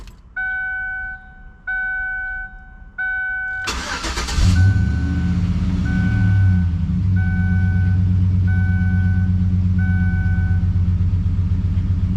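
A 2011 Chevy Silverado, just fitted with a replacement MAF sensor, gets three key-on chime sequences, then a loud starter crank that catches into a steady, rumbling idle while a dashboard chime keeps pinging at regular intervals.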